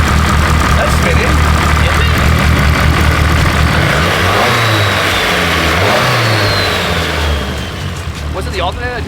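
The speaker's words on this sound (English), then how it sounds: "We'll try and pop start on the dyno, guys." A car engine on a dyno, pop-started with the rollers spinning, catches and revs loudly with rising and falling engine pitch over the continuous roar of the rollers, while people talk in the background.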